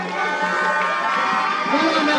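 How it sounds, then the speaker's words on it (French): A crowd at a closing ceremony of the TOURNIFRA 2022 tournament in N'lonako, Ebone, cheers and applauds in a brief, dense, continuous burst of noise, with a few higher shouts mixed in. "On applaudit s'il vous plaît."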